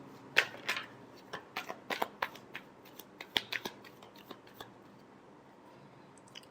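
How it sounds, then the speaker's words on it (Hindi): Tarot cards being shuffled by hand, a quiet series of soft papery slaps and riffles at irregular intervals, thinning out toward the end. "Last shuffle."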